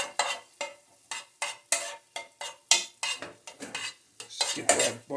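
A utensil stirs and scrapes through butter sauteing in a pan for an alfredo sauce, making a steady series of rhythmic metallic clinks and scrapes with a light sizzle underneath and no voices.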